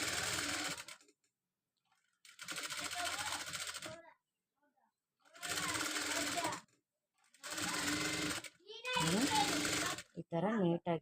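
A sewing machine stitches a modern neck blouse in about five close, buzzing runs of a second or two each, broken by near silence, with someone speaking during the pauses.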